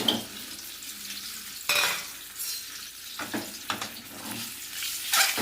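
Boiled, scored eggs fry in two spoons of hot oil, a continuous close sizzle broken by several louder scraping stirs and turns in the pan, with no voices.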